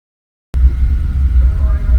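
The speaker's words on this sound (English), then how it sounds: "Street stock mods, or you know, some variant of them, are on track right now" Street stock modified race cars run on the Toccoa Raceway dirt track, heard as a steady, loud low engine rumble that starts abruptly after a brief silence and continues without letup.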